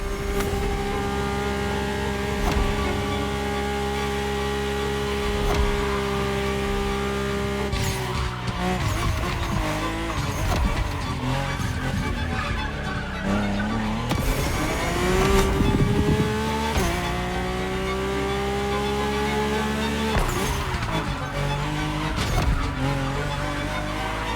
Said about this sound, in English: My ultimate appointment in this country was set with the breathtaking Mercedes AMG 1